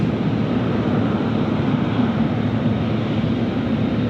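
A jet airliner departing Sydney airport roars as a broad, steady rumble, loud and continuous without break, with no voices over it.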